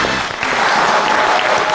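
A studio audience at an Armenian television evening show applauds to bring on the second round, with loud, dense clapping that holds steady from start to finish.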